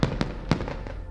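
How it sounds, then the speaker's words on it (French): Fireworks bursting in a rapid series of sharp cracks and pops, several distinct bangs over a continuous crackling, rumbling background, fairly distant and loud. "les Chinois expérimentent les premières fusées sous forme de feux d'artifice"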